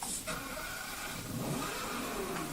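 A car engine in the Need for Speed: Hot Pursuit (2010) game menu revs up and holds a steady, buzzy drone, close and fairly loud, with a slight rise in pitch partway through.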